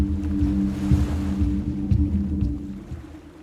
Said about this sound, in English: I don't hear anything but the waves.